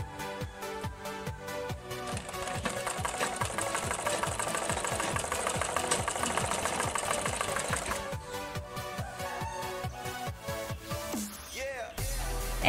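A sewing machine stitching a child's frock made from fabric scraps, its needle thumping in a steady rapid rhythm, close and loud, slowing and stopping near the end.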